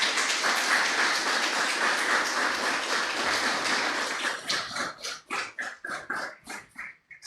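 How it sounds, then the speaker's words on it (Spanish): A church congregation applauds for several seconds in a dense, steady wash of clapping that thins into a few louder, rhythmic claps near the end. "¿Por qué no le das un aplauso al Señor por eso?"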